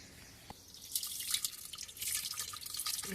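Water is poured over tamarind pods in a mango orchard while Ugadi pachadi is being made, giving a gentle trickle and splash that starts with a single drip and grows into a steady, light pour.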